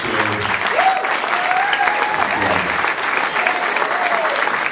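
Wedding reception guests applauding after the speeches, a full room of steady, dense clapping lasting the whole stretch, with cheers and a few voices rising through it.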